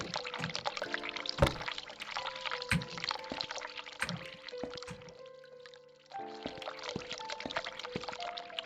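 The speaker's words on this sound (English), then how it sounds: "Turn the hot water on." Hot water runs from a tap in The Cat Lady video game, a steady close splashing stream with sharp clinks and drips, briefly thinning out midway before resuming over soft game music.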